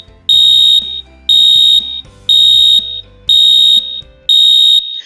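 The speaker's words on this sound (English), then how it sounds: "when the alarm clock goes off" A loud, shrill electronic alarm beeps in five evenly spaced, long pulses, each about half a second, with brief silences between.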